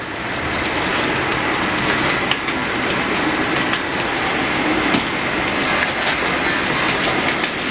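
A model train of about ten cars rolls steadily along a layout with continuous rumbling and regular clicking over rail joints, close and fairly loud, with no voices.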